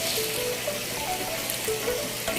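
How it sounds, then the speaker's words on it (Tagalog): Tilapia fish feed is stirred by hand to blend in a vitamin supplement, giving a steady granular rustling hiss of pellets shifting against each other. It is close, continuous and fairly quiet, with no voices. "haluin lang po natin yung feeds para po mag-even na mahalo"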